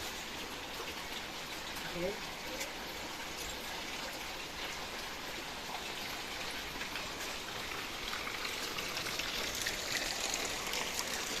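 Steady rushing rainwater runoff during days of continuous rain, dense and continuous, filling the whole clip with an even hiss.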